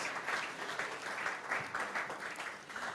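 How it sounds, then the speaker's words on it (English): A round of applause from attendees at a corporate HR leadership forum, steady moderate clapping heard at some distance in a hall, without voices, over a few seconds. "Please, can we give another round of applause?"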